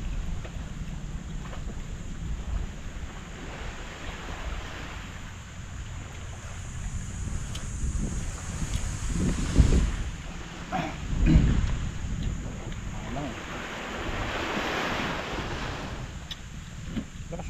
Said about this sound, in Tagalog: Lakas ang amihan o.